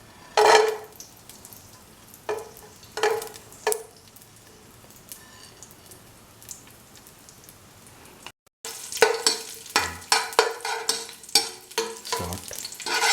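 Cashews and raisins fry in hot ghee in a pan with a soft sizzle. Frequent close stirring and scraping strokes come in bursts, with a brief pause partway through before the stirring grows busier.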